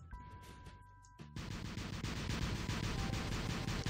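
Robot weapon fire in the mech combat game War Robots, a dense continuous burst of rapid gunfire kicking in after a brief tonal beep and quieter start, loud and sustained to the end.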